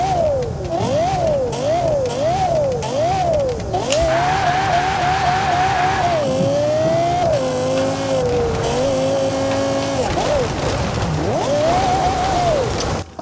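A 4.8-liter V10 car engine in the Forza Motorsport racing game revs hard up and down several times, then holds a steady howl and climbs again. It is loud, close and continuous, with no talking.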